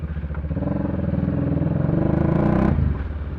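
A motorcycle engine caught in heavy long-weekend traffic, rumbling close by with a pulsing idle that rises into a brief rev before easing off, with no talk.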